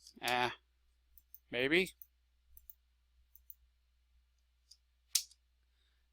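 Computer mouse clicks and an enter key press come as a few sharp, isolated clicks in a quiet room, scattered between two short bursts of speech.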